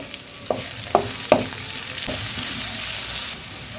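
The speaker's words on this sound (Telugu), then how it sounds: "ఉల్లిపాయలు దోరగా వేగాలి" Onions sizzle steadily in oil with a few sharp scrapes of a spoon stirring near the start, close and continuous until it suddenly drops slightly near the end.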